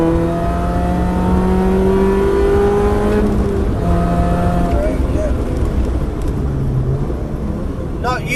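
A car engine on the Cadwell track-day circuit drops a gear into the slowest corner, its loud close drone sliding down in pitch through each shift, with pitch jumps and an engine note blipping under an instructor's talk.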